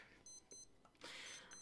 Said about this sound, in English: That's when we have our alarm.